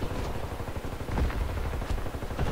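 Gunfire in the online shooter Warface on the Oil Depot map: rapid, dense bursts of shots, close and loud, crackling continuously through the short stretch.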